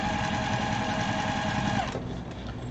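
A sewing machine chain-sews fabric pieces for a long wall organizer, running in a steady fast whir close up that stops abruptly near the end.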